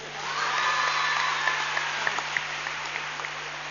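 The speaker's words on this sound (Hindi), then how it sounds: "जोरदार एक बार अपने लिए तालियां बजा दो" An audience at a children's NGO dance festival in Mumbai bursts into applause, a dense crowd clapping that swells quickly and holds strong with scattered louder claps, fairly close and without talk.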